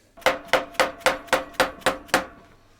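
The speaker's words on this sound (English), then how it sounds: "This is called a dead blow hammer" Dead blow hammer striking metal parts during a cafe racer motorcycle teardown, seven sharp, evenly spaced loud blows with short ringing decay, alone with no talk.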